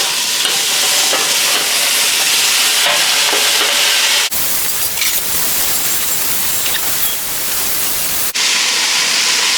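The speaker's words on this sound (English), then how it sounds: "you can add back your meat that you seared earlier" Seared beef pieces with garlic and onion, added back to a stew pot, heard as a loud, steady hiss of sizzling with stirring scrapes and a brief break in the sound, close by and without talking.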